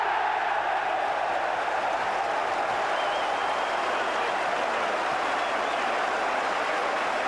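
A home football crowd roars and applauds after a goal in a 2004-05 League One match, a dense, continuous wash of distant cheering and clapping that holds steady from start to finish.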